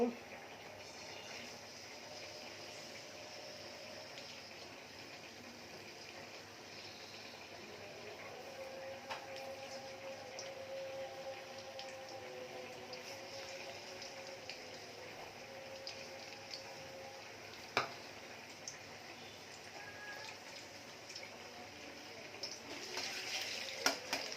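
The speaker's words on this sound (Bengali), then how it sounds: "যে কড়াইতে তেল দিয়েছি, এখন রসুন দেব।" Garlic sizzling in oil in a wok while cooking a taro leaf dish, a steady low hiss and crackle running throughout with a few sharp clicks near the end.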